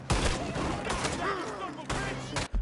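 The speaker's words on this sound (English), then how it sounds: "Who's shooting who?" Gunfire in the Western game Red Dead Redemption 2, with bursts of rapid shots at the start and again near the end, loud and close, under the game's other noise.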